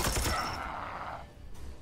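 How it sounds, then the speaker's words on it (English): Gunfire from the Warhammer 40k: Chaos Gate - Daemonhunters video game, a dense burst of shattering, crackling shots that fades over about a second and a half, loud and close with no talk. "Opening fire."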